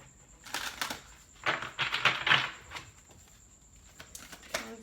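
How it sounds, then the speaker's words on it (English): A well-used, softened deck of tarot cards being shuffled, soft riffling and flicking bursts up close in a quiet room, with a faint steady tone in the background. "this will be our last shuffle"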